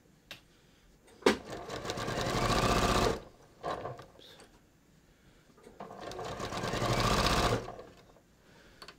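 A sewing machine stitches down a pants gusset along the center front seam, running in two sustained bursts of steady, rapid stitching separated by a quiet pause with small handling clicks; close and clear, with no talking.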